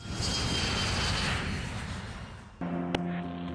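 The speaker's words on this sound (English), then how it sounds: "The Alaska Airlines MD-83 zooms over the California coast." Alaska Airlines MD-83 jet airliner passing over the California coast: a loud, steady broadband engine roar that drops off sharply near the end, leaving a fainter tonal hum.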